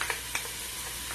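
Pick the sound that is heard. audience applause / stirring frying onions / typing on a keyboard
stirring frying onions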